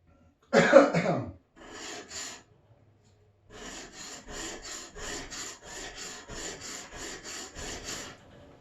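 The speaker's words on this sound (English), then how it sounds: "I'm going to go ahead and hit the bevel really quick." A skew paring chisel's bevel worked on a sharpening surface, heard as a rhythmic series of close rasping strokes, steady back-and-forth scrapes after a brief rougher burst at the start.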